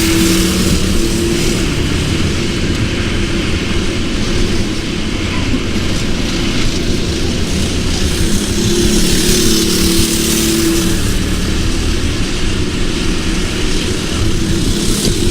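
Kart engines race around a dry track on a late-afternoon McLaren championship round, a loud continuous buzzing drone of multiple engines that swells and fades as karts pass, with no talk.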